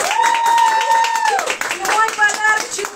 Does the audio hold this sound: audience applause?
yes